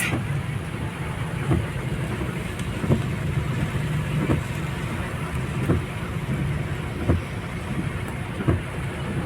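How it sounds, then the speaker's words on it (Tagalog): Heavy storm rain pours steadily on a vehicle on the road, a continuous loud hiss with low engine or road rumble underneath and faint periodic thumps, like wiper or drip knocks, every second or so. "gano'n malakas ang ulan."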